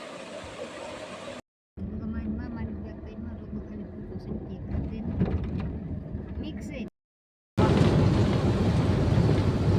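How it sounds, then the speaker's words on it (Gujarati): Heavy rain hisses steadily, with short silent breaks, while people talk over it. "અહીંયા વરસાદ છે વાતાવરણ હાવ ઊંધું ઊંધું થઈ ગયું"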